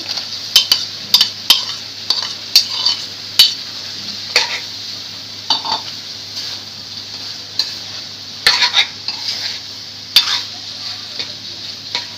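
Prawns are added to a frying pan and stirred, with a soft continuous sizzle under repeated sharp clinks and scrapes of a spatula against the pan.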